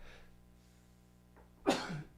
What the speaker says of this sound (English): Oh gosh, I got a sneeze coming up.